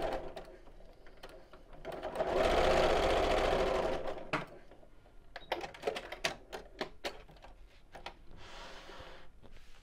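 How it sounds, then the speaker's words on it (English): A sewing machine stitching a circular fabric pouch runs in a loud steady burst for about two seconds, followed by a series of sharp clicks and short mechanical taps, then a softer brief whir. "Leave the needle down as you do this, so then you can carry on sewing from the same point"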